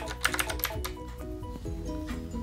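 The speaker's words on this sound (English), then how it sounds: "Press the key immediately to the right of the shift key on the left side of the keyboard." Keys pressed on a Dareu EK815S mechanical keyboard, a quick flurry of close clicky taps at first, then sparser presses over a steady tonal background.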